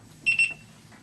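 A short burst of two or three quick, high electronic beeps from an electric unicycle speed alarm sounds close by, then stops, over a quiet low hum.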